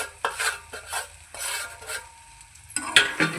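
Roasted semolina and softened green peas being stirred in a pan for upma, a spoon scraping and turning the mix in repeated close strokes with a light sizzle underneath.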